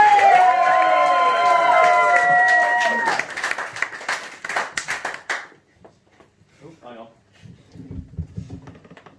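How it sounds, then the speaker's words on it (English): Comedy club crowd in Canterbury clapping, cheering and stamping feet, a loud sustained roar over a host's amplified voice that cuts off abruptly and leaves scattered claps, shuffles and murmurs. "Let me hear those feet to stamping. Those hands are clapping."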